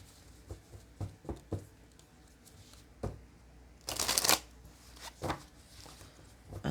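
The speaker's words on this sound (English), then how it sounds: "Let's pull 4 cards on that worthiness card." A deck of tarot cards is shuffled by hand, soft riffling taps and flicks in an uneven rhythm, with one brief louder riffle burst midway, close up and without talk.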